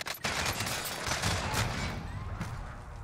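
Automatic gunfire in a Warzone online shooter match, a dense rapid burst of shots with a sharp opening crack followed by sustained rattling fire, close and loud.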